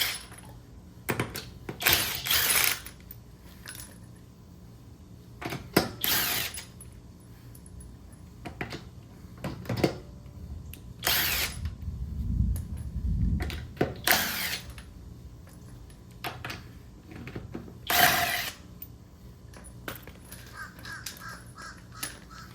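An impact tool spins lug nuts off an Infiniti QX80 wheel in several short bursts separated by pauses, with ratcheting clicks and some low clunks in between, close and fairly loud.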